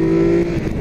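A Triumph Tiger 1200 Alpine Edition motorcycle engine runs close by at a steady, strong drone with a held low tone that drops slightly partway through, heard briefly with no talking.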